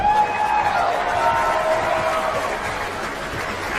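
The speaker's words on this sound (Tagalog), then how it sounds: "Pwede pa tayo magpalakpakan na may kasamang sigawan?" A studio audience claps and shouts together in a sustained burst of applause that fades slightly toward the end.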